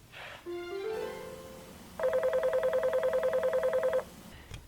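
A phone number is dialed: a short rising run of tones, then about two seconds of rapid, evenly spaced touch-tone beeps, loud and clear with no talking.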